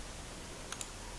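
A computer mouse gives two quick, crisp clicks in close succession against a quiet background.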